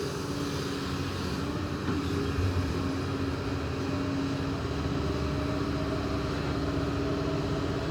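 Diesel engine of a Doosan DX200A excavator running at a steady, continuous drone with a low hum and no break in level, heard close and alone without talk.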